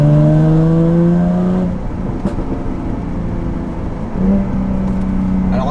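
A Jaguar F-Type V6 engine holds a steady, humming idle with a low drone, then rises again into a brief rev near the end. No one speaks.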